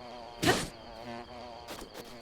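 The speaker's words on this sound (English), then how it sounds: "Bees are not friendly." Bees in The Legend of Zelda: Breath of the Wild give a thin, steady buzzing drone that swells briefly with a louder whooshing sweep, then returns to a faint hum with a few softer flutters.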